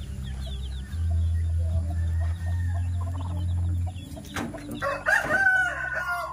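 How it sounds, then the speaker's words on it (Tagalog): Chickens cluck and a rooster crows close by in a rural farmyard, with a steady low hum running under the first few seconds and a louder burst of crowing near the end. "Bagong pisa ang manok mga dong."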